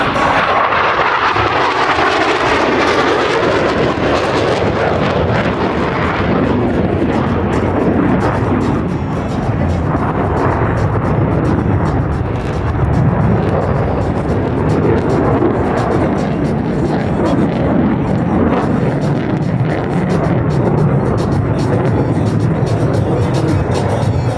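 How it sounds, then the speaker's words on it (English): U.S. Navy Blue Angels jets roar loudly and continuously through an opposing horizontal rolls pass at an air show, a dense, sustained blast of engine noise over crowd ambience with people talking. "Ladies and gentlemen, the opposing horizontal rolls"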